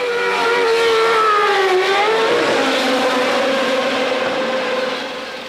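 Formula 1 cars, a Benetton Renault and a Ferrari, scream down the pit lane together in 1996, a loud high-pitched engine whine that dips in pitch mid-pass and then recedes, with no talk.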